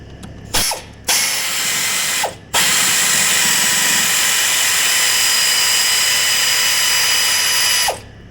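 Socket ratchet wrench turning on a skid steer starter: close, loud bursts of rapid ratchet clicking, two short runs and then one long continuous spell lasting several seconds, with no talk.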